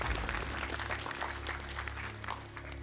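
Studio audience applauding a contestant on a quiz show, a dense, continuous patter of many hands clapping at moderate volume for a few seconds.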